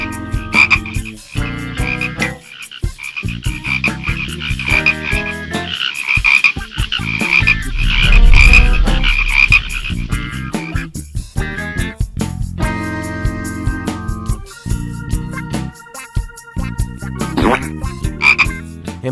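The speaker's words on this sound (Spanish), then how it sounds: "miles y miles de ranas surgieron de ellas, como si fuera un gran ejército de verdes y saltarinas criaturas" A dense chorus of thousands of frogs croaks in overlapping rhythmic trills and ribbits, loud and continuous, with a swelling low rumble in the middle.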